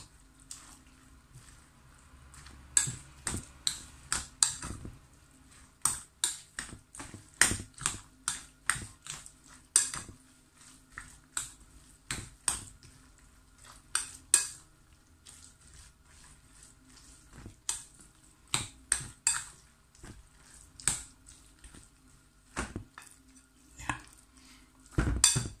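Eggs for a vegetable omelette are whisked in a bowl, giving irregular bursts of quick, sharp clinks and taps from a utensil against the bowl, separated by short quiet pauses.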